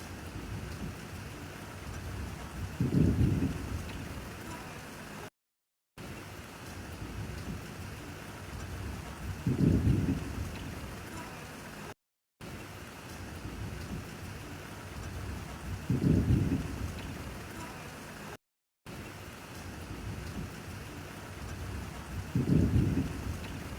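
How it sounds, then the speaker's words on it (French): Steady rain falls in Marseille, a continuous soft hiss with a low rumble swelling up at regular intervals, heard alone without voices. "Ouais, il pleut."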